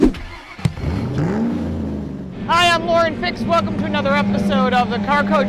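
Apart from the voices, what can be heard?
race cars at a racetrack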